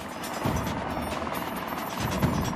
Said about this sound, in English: The police chopper picks up the pursuit in the nick of time